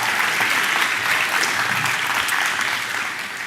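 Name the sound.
audience applause for award nominees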